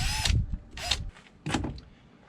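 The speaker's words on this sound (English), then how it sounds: "Make sure the wires don't get behind the drill when you drill it" A power drill boring a 3/8 hole for bolts during coolant surge tank replacement on a 2006 Tiffin Allegro Bus, heard as three short whining bursts with pauses between, close and loud.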